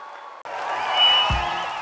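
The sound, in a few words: applause for Dr. Hemant Savara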